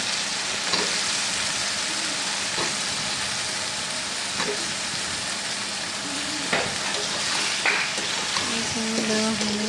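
Food sautéing in a pan for a pointed gourd and fish curry, with a loud, steady, close sizzle and occasional clinks and scrapes from stirring, plus faint background murmur.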